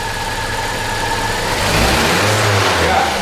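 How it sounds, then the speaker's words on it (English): A Vauxhall Corsa VXR engine with a cylinder 4 compression fault and misfire is revved up from idle, the engine note rising and holding loud and close with an uneven, stumbling edge. "When we raise the engine RPM"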